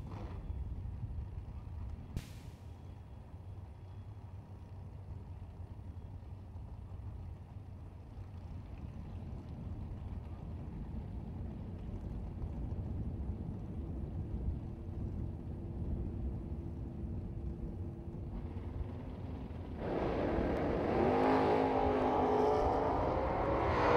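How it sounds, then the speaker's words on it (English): Mustang drag race car at a drag strip, a steady engine drone through most of the run that builds and swells louder with a sharp rise in the last few seconds, no talk over it. "Cody Harger will come up on the right-hand side of the racetrack. The Mustang down to 589"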